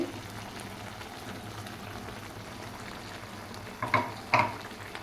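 Ginger and garlic frying in a pan for chicken gravy give a soft, steady sizzle, with a couple of louder clinks and spatters near the end.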